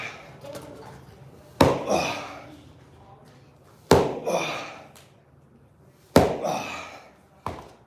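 A kettlebell is slammed down during a home workout, landing in three heavy, sharp impacts spaced a couple of seconds apart, then a fourth smaller hit. Each impact rings out briefly in a quiet room.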